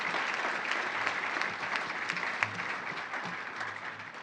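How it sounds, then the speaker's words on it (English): Audience at a college graduate recognition ceremony applauding students, steady dense clapping from a large crowd in a hall, with a few faint voices underneath. "Now's a good time to applaud for all those students in Ag Econ."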